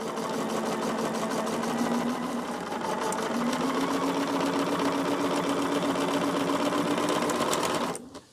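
A sewing machine stitches quilt squares diagonally from corner to corner, a continuous close motor hum with a steady rapid needle rhythm that runs for several seconds and cuts off abruptly at the end.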